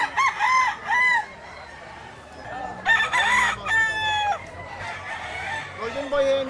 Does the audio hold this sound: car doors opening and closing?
no